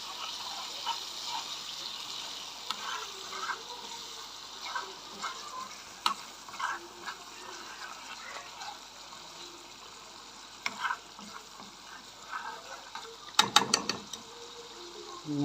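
Koshary is stirred in a pan, giving faint scraping and clinking from the utensil with a soft sizzle beneath, in scattered irregular bursts and a louder clatter near the end.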